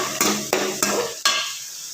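Finely chopped onions fry in a pan with tempered green chillies, cinnamon and cloves for paneer masala, with four scraping spoon stirs over a steady sizzle that then settles into quieter frying.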